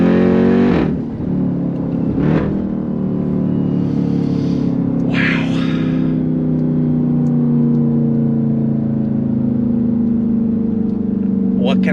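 Jeep Grand Cherokee Trackhawk engine revving as it accelerates, with a rising supercharger whine building over a loud, steady drone heard from inside the cabin, and no talking over it.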